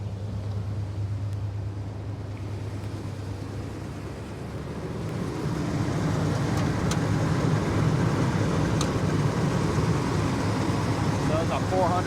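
A 1977 Chevrolet Suburban's 400 V8 idles inside a metal building, a steady low rumble that thickens into a broader, louder drone partway through, with no speech over it.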